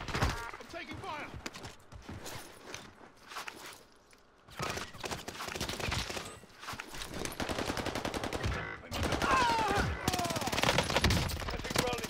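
Rapid bursts of automatic gunfire in Call of Duty Vanguard Warzone, with PPSh-41 submachine gun fire among repeated loud volleys separated by short pauses, some distant shots and game chatter mixed in.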